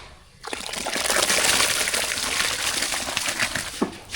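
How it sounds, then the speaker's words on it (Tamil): Washed rice tipped into a large pot of boiling water while cooking sambar for a crowd of seventy, giving a sudden broad watery rush and slosh that continues steadily, loud and close, with no voices. "தண்ணி நல்லா கொதிச்சிட்டு கழுவி வச்சு அரிசி சேர்த்துக்கலாம்"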